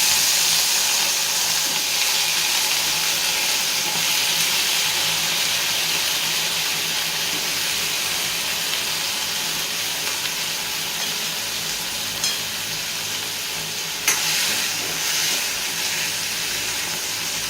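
Boiled potato dropped into a kadhai with a little oil and stirred, a steady soft sizzle with occasional scrapes and a sharper clatter near the end.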